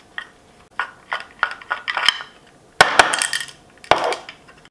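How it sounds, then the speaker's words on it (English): Screws being removed from the front tray of a Honda CRX, a series of short clicking and rattling metal tool sounds in an irregular rhythm, close and fairly loud, with no talking. "And we got these two screws in here for the tray, the front tray. Just gonna unscrew that."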